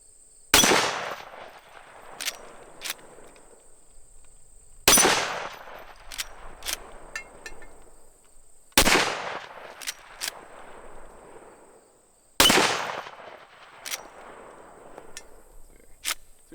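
Four gunshots firing semi-jacketed soft point rounds, each a sharp loud crack spaced about four seconds apart with a short ringing decay and faint small clicks between shots.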